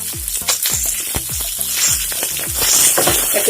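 Chillies sizzle loudly in a hot pan while being stirred, with repeated scraping strokes over a dense, continuous crackle of frying close by, steady throughout with no voices.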